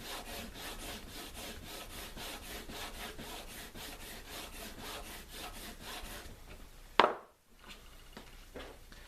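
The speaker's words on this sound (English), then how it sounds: "just take a piece of leather and just put some of this," Leather strop being rubbed with sharpening compound for knives and axes, a steady rhythmic back-and-forth rasping scrape that repeats evenly for several seconds, then stops with a sharp knock and a few fainter strokes.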